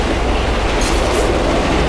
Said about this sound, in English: Look at me riding a train like a boss.